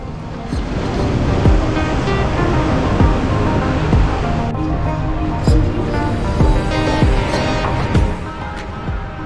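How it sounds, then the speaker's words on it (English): Ocean surf breaks steadily along a shoreline beneath a kilometre-long zipline over the sea, a continuous loud wash with recurring heavier crashes and no talking. "you travel through these crashing waves in the most spectacular fashion"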